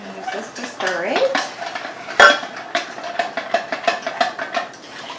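A spoon stirs jello powder in a large measuring cup, with a steady scraping and clinking swirl, close up, and one sharp knock against the cup partway through.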